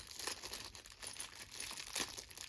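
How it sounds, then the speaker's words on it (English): Plastic packaging around floodlight mounting hardware is unwrapped, giving quiet close crinkling and rustling with a few sharper crackles, heard on its own. "So we'll go ahead and unwrap this as well."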